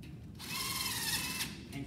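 Power drill driving screws into metal stud framing, a steady high-pitched whine running for about a second, close and fairly loud, with faint room noise before and after.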